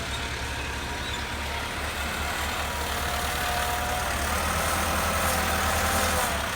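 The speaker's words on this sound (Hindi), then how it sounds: "ये ट्राली को लोड करके ना अब ये पर आ रहा है ट्रैक्टर, यहाँ पर खाली कर रहा है" Tractor engine running while its loaded trolley is emptied onto low ground, a steady low idling throb with a rough mid rumble, close and continuous, gradually growing a little louder with no talk.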